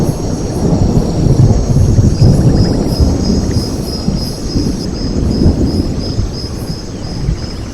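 Heavy, continuous low rumbling like rolling thunder fills the whole stretch, loud and steady, with no voices.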